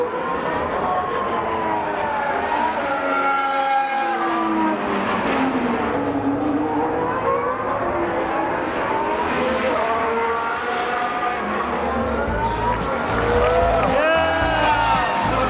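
Formula 1 race cars at a qualifying session, their high engine whine sweeping up and down in pitch continuously and fairly loud, with a crowd faintly audible underneath.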